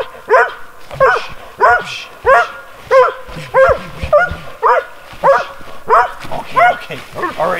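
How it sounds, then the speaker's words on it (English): A dog barks repeatedly up close, a steady series of loud, evenly spaced barks with slight whining edges. "All right, Mr. Barky. I get it."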